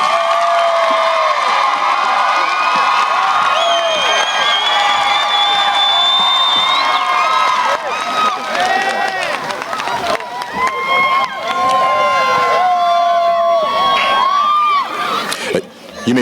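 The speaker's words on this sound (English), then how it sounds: "Please give a round of applause to the graduates." At the Wagener-Salley High School 2021 graduation, a large crowd cheers, whoops and shouts for the graduates, loud and continuous, with voices calling out over a dense roar that briefly drops near the end.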